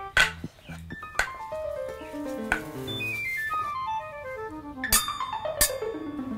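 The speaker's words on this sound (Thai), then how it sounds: "เสียงแบบนี้น่าจะใช่เหล็ก" Iron tool struck several times, each hit ringing out as a bright metallic clang with long, slowly fading overtones, fairly quiet and close, with a few spaced strikes.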